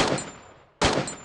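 Two quick bursts of AUG rifle fire from the video game Free Fire MAX, sharp and loud with a short decay between them.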